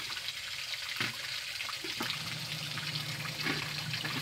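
Water splashes and trickles while a small child is bathed at home, poured in uneven bursts with a steady wet running sound throughout, fairly close and alone without talk.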